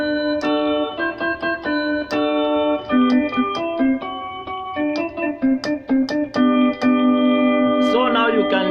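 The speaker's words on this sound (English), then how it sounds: "So now you can hear there is another voice that is added to our piano." Keyboard piano played with a second dual voice layered on top, giving sustained, richer chords and single notes in a steady, moderately loud passage with no talking.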